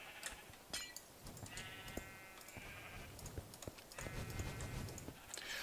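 Sheep in a video game bleat several times in short, clear calls amid hoof-like clopping and clicking sounds, all fairly quiet with no speech.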